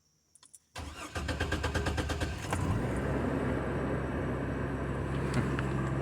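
A 2002 GMC Envoy with a 4.2 litre inline-six cranks for a moment after a few faint clicks, catches, and then settles into a steady, close idle.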